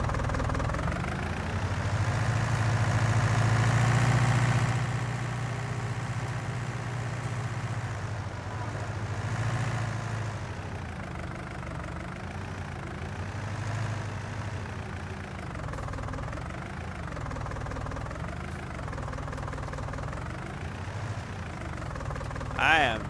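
A tractor engine idles in the Farming Simulator video game, a steady low rumble that runs throughout with gentle swells in pitch and level, while a person talks over it for most of the stretch.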